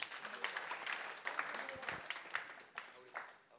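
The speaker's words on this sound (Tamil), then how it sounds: "பெரிய கைதட்டு கொடுவோம்." Audience applause at an Independence Day celebration gathering, moderately faint uneven clapping from a small crowd with voices talking over it throughout.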